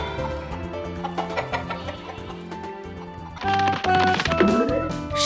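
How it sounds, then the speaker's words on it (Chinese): A plump old hen clucks in a run of short, close calls that grow livelier toward the end, over a steady background of music. "胖胖的老母鸡也跟着起来了。"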